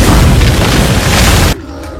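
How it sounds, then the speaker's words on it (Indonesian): A cave is blown up in a horror action film, a loud, sustained booming blast that roars for about a second and a half and then cuts off abruptly to a quieter background. "Kyung berhasil meledakkan gua itu"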